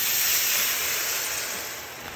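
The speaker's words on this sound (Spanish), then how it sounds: "en este sartén hacemos un deglaze con lo que tenemos aquí" Beef pan deglazed right after searing, a steady loud hiss and spray of steam sustained throughout without pause, gradually easing slightly toward the end.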